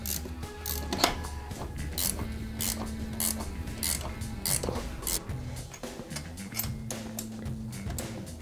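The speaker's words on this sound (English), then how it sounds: "we're going to bolt it down with the supplied washers" Ratchet wrench clicks rapidly and repeatedly as nuts with locking washers bolt a turbo manifold onto an NB MX5 Miata engine, close mechanical ratcheting in bursts with brief pauses.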